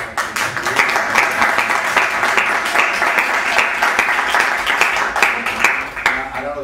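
An audience at a lecture on the Spanish inventor Leonardo Torres Quevedo breaks into loud, sustained applause, a dense wash of many clapping hands that holds steady before thinning near the end.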